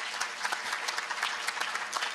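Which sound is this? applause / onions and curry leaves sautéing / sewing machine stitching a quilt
applause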